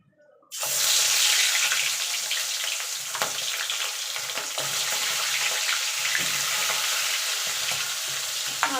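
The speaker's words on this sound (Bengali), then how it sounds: "এবার মাছের মাথাটাকে ভেজে নেবো" A loud, steady sizzle of fish heads frying in hot oil in a wok starts abruptly after a brief silence and crackles on without pause, with occasional sharp pops.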